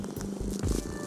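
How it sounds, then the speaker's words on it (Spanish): A small cat purrs softly and close, a low rhythmic rumble with no talk over it, after being petted for about ten seconds. "es de estos gatos que consientes por 10 segundos y comienza a ronronear"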